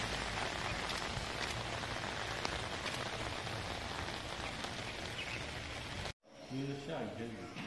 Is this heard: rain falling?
yes